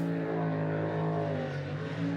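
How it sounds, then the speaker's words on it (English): A jet sprint boat motor revs hard during a round of the NZ Jetsprint Championship at Whanganui, a loud sustained engine drone with steady harmonics that rises and dips slightly, heard alone without talk. "Yeah, you can hear the sound of the motor."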